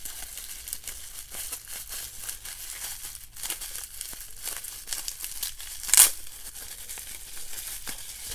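A mail package of trading cards is opened close by, with plastic crinkling and rustling throughout and a sharper tear or crackle burst near the end.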